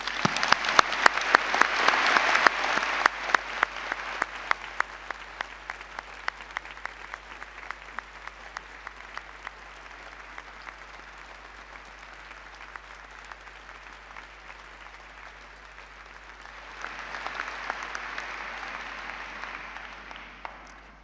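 A large audience at a Faculty of Medicine graduation ceremony applauds the new doctoral graduates, loud dense clapping that thins to a lighter patter through the middle, then swells again near the end.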